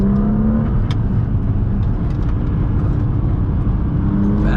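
A car's engine pulls hard on the throttle out of a canyon hairpin after a downshift into second gear, a loud, continuous close-up roar with no talking.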